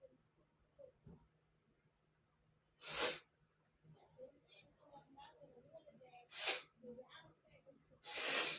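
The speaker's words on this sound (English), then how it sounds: "I had to blow my nose." Three loud, sharp sneezes burst out close by, spaced a few seconds apart, with faint sniffing, rustling and breathy noises between them.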